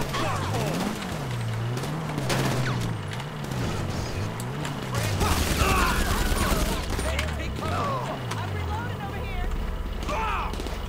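Automatic gunfire and explosive bursts from a GTA 5 Online mission, fast rattling volleys mixed with engine drone and game effects, loud and continuous throughout.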